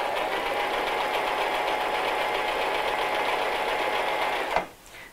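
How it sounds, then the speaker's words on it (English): Sewing machine running a straight stitch through fabric, a fast steady mechanical hum and rattle that continues evenly for over four seconds, then stops abruptly with a brief clack. "put your foot on the foot pedal"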